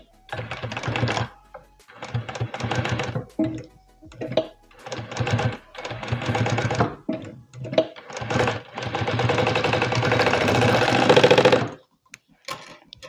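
A sewing machine stitches bias binding onto a placemat in several short, loud bursts of rapid needle clatter with brief pauses between them, ending in one longer continuous run.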